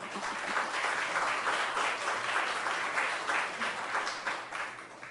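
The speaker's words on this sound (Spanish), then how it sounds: "Les pido para ambos un fuerte aplauso." Steady applause from an academic audience, sustained and dense across the whole stretch, a broad wash of many hands clapping at even loudness without a break.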